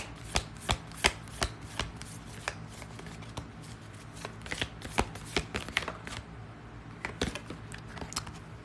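A deck of tarot cards being shuffled close up, a series of crisp riffling bursts and sharp card snaps in an uneven rhythm, with quiet pauses between the shuffles.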